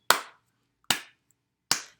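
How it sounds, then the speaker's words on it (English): Three single hand claps ring out sharply and evenly spaced, each crisp and close with a short decay, alone with no voices. "We'll start clapping."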